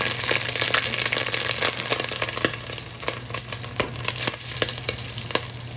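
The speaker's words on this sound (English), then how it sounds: "So what I'm just gonna do is fry these." Tomato paste fries steadily in a hot pot, a dense crackling hiss with occasional stirring scrapes, close up and fairly loud.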